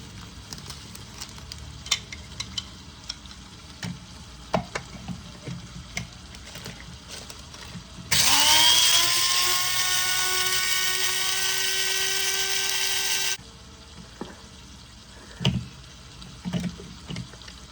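Cumin seeds are ground into powder in an electric grinder, a loud high whirring burst lasting about five seconds whose pitch drops as it spins up, set among quiet kitchen clatter before and after.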